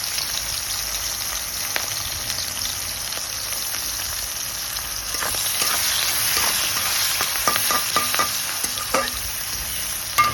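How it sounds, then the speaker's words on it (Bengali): Chopped onion and green chillies frying in hot oil in a pan for a Bengali katla fish curry, a continuous bright sizzle with occasional stirring clinks and scrapes, close and alone. "সেই কুচানো পেঁয়াজ, 7-8টা কাঁচা লঙ্কা দিয়ে দিলাম তেলের মধ্যে।"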